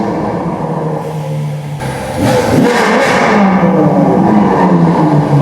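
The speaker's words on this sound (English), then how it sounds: "I can start it up real quick. It sounds like a vacuum because I got stock exhaust on it." A car with a stock exhaust starts up, a steady whirring engine hum that swells louder and rougher after the ignition, then settles into a loud, close idle with no voices.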